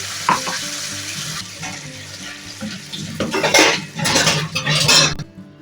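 Water is poured into a spice paste frying in a pan for a Bengali doi bhetki fish curry, bringing a loud hiss and burst of sizzling over stirring and clinks of utensils against the pan.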